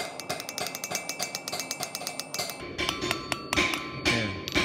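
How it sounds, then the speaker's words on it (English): Ball peen hammer forging a small metal heart pendant, a rapid run of bright, ringing metallic taps in close succession followed by a few slower, heavier ringing strikes, all close and clear. "I'm going to heat this up just a little bit more using my ball peen."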